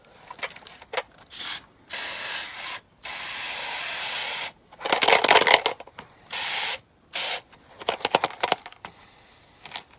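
Mr. Muscle cleaner sprayed in repeated short bursts onto a chrome-plated plastic base of a Corgi Juniors Ford Gran Torino die-cast model, close and hissy, with brief pauses between squirts and some handling clatter.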